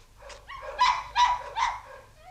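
A dog in a 1982 Polish film about rounding up stray dogs barks and whimpers close by, three or four short loud yelps in quick succession, with no talk over them.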